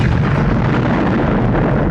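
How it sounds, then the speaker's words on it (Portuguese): A loud, rumbling movie explosion of a helicopter roars continuously, a dense low boom with crackling debris and no voices. "causando uma grande explosão"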